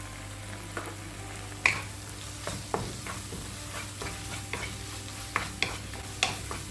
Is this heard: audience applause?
no